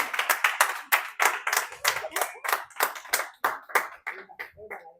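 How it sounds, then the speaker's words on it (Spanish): A church congregation claps together at a Sunday service, a steady run of sharp, rhythmic handclaps that thin out and fade toward the end, with no talking over it. "Dale un aplauso fuerte a Dios."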